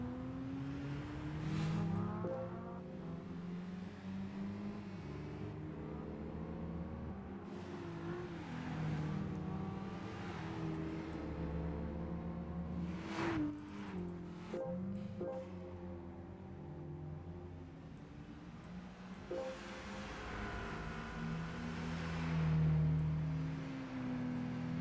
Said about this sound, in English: Here comes the Mazda.